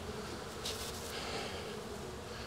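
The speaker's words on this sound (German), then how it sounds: "Das ist die dunkle Biene, mittlerweile F2" Dark honey bees, second-generation offspring, hum around a straw skep hive during varroa treatment with Bayvarol strips, a steady, even swarm buzz that runs unbroken and fairly soft throughout, with no voices.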